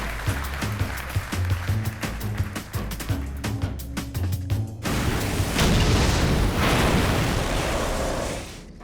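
A large miniature tower model with a crane is destroyed: rapid sharp cracks and bursts lead into a heavy, sustained rumbling crash of breaking material.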